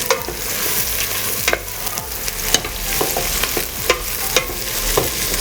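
Broccoli and leeks stirred in a hot pan for a kidney bean stew give a steady sizzle of frying, broken by a string of sharp spatula scrapes and taps against the pan at irregular intervals. No one speaks.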